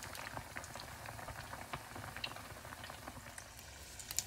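Chicken satay rangoons deep-frying in hot oil, a steady dense bubbling sizzle with scattered small pops and crackles throughout, fairly close and continuous.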